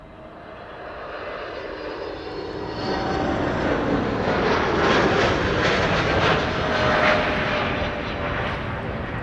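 A Boeing 737-700 airliner arriving at Amsterdam Schiphol roars overhead, its engine noise swelling from a moderate rumble to a loud, broad, sustained roar that peaks midway and stays strong to the end, with no voices.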